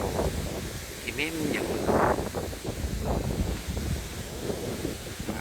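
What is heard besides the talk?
strong wind by the river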